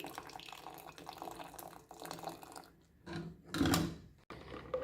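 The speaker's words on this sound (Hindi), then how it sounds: "तो अब हम इसमें डालने लगे हैं ये ठंडा पानी।" Cold water is poured into simmering Kashmiri pink tea in a pot, a faint, close splash and trickle with a louder burst of pouring near the end.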